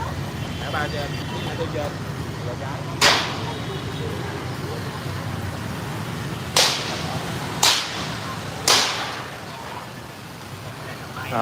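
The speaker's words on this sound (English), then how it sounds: "He's taking down the last piece of the wall." Demolition of a wall by a worker beside a riverside street, with four sharp cracking impacts scattered over steady traffic and crowd noise.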